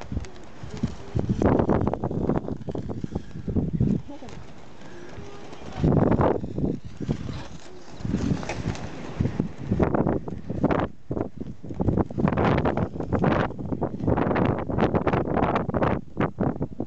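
Strong gusting wind buffets the microphone outdoors during kite flying, roaring in loud irregular bursts with brief calmer lulls between them.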